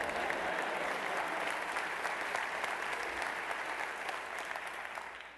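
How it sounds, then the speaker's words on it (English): A TEDx audience claps steadily for a few seconds, dense and even, then begins to taper off toward the end. "Go ahead, you can clap."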